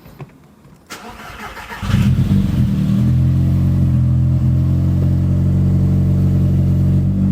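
An Audi car engine cranks after a couple of clicks, catches and settles into a steady, loud idle that runs on evenly.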